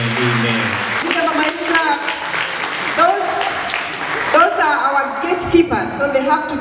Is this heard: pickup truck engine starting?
no